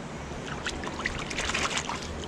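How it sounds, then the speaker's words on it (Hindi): Water running and trickling at a spot in Balochistan, Pakistan, a steady moderate flow with splashy bursts, heard close and alone with no voices. "ये देखिए ये पानी है"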